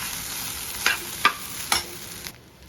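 Sago (sabudana) khichdi being stirred in a pan, three distinct scraping strokes of a spoon over a soft background sizzle, close and fairly loud.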